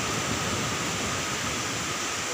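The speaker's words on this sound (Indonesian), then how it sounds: "Wow, ombaknya keren." Ocean waves at Sirombu beach give a dense, continuous roar of surf that stays loud and even throughout, with no talking.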